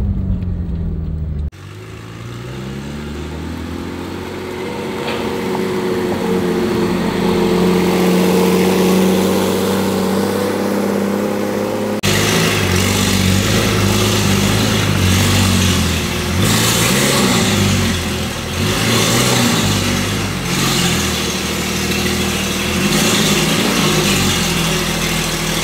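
A car engine accelerating hard at high speed, its roar rising in pitch over the first seconds and then holding loud and steady for the rest of the stretch, with no voices over it.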